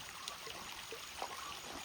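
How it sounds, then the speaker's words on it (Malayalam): Cold water spills over rock into a small bathing pool near Kuttikkanam, a faint, steady trickling rush with a few soft splashes, heard alone. "ഈ പാറപ്പുറത്തുനിന്ന് വെള്ളം ഒഴുകി വരുന്നുണ്ട്"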